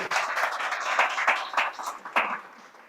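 A small conference audience claps in steady applause, fairly close and fading slightly toward the end, with no talking.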